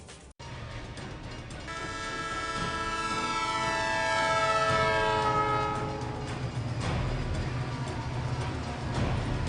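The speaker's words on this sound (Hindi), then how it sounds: "ट्रेन आई और निकल गई," A train passes close by near Azadpur railway station in Delhi, its horn sounding a long loud tone as the rumble of the cars swells and then fades, with no talk.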